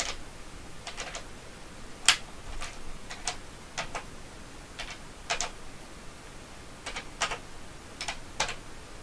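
Keys on a Texas Instruments 3500 calculator clack loudly one after another in an uneven rhythm, sharp and close like a printing calculator, with a hushed background between presses.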